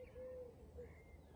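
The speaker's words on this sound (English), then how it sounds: "That bird that's been waking me up for the last 40 years." A bird calling with a hooting woo woo, two short tonal coos separated by a pause, faint and a little distant over low background hum.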